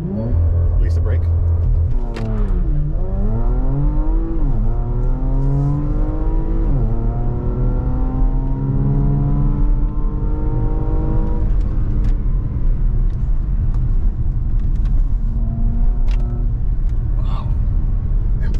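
A Tesla Model 3 on winter tires accelerates hard from a standstill with the pedal floored. Heard from inside the cabin, its electric motor whine climbs and sweeps in pitch over a low road and tire rumble.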